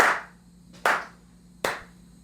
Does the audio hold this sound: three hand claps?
yes